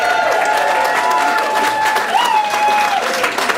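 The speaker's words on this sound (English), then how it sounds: "So anyone who agrees with Ivor, I want you to cheer, holler, loop, do whatever you want to do." An audience at a Bettakultcha head-to-head challenge event in Leeds cheers and applauds loudly and steadily throughout, with whistles and hollers rising over the dense clapping.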